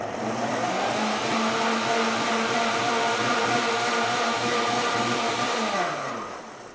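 A blender pulses a Cuban mojo pork marinade with a loud, close motor whir that holds steady for several seconds and then winds down at the end.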